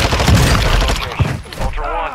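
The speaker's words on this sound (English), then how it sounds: "That was shots." Several sharp gunshots crack in a video game, mixed with distant bursts of fire, while players talk loudly over them.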